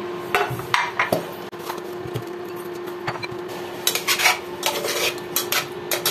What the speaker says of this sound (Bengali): এই পাত্রে আমি জেলোগুলো ঢেলে নিচ্ছি।